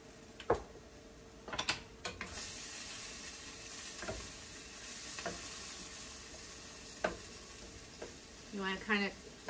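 Ground beef (hamburger) frying in a pan while a utensil stirs and presses down the clumps, giving a steady sizzle with occasional scraping clicks and knocks.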